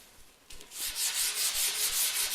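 A wooden tool handle is hand-sanded with 100 grit sandpaper, starting quietly and then settling into a steady rhythm of close, raspy back-and-forth strokes, alone.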